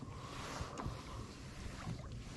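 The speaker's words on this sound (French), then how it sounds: "Je remets le moteur en route." A small fishing boat's motor runs on a pond during winter carp fishing, a steady droning hum with a faint whine, heard alone against light wind and water noise.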